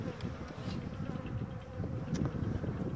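Honey bees on about seven hive frames during a spring inspection fill the air with a dense, continuous buzz, close and even, with individual bees briefly flaring louder as they pass.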